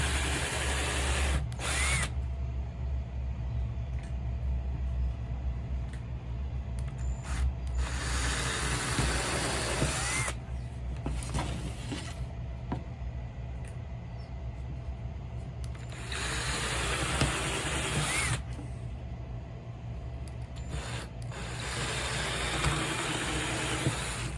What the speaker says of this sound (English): I'm going to use the same bit that I used to drill the other holes.